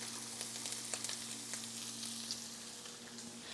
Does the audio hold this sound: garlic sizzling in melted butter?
yes